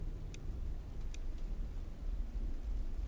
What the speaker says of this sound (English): Rain and snow pelt against your body.